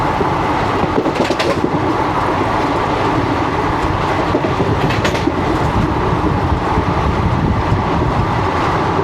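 The 12467 Leelan Express, a diesel-hauled passenger train, approaches Kuchaman City station in Rajasthan, heard from on board as a loud, steady rumble with rhythmic clickety-clack from the wheels over the rails.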